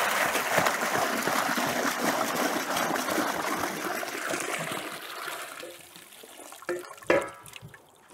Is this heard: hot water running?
yes